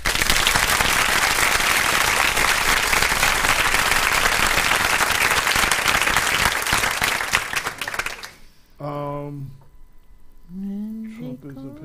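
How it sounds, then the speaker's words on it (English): Loud sustained applause for a guest on a live radio show, a dense wash of clapping for about eight seconds that cuts off abruptly, followed by a voice speaking. "So, round of applause,"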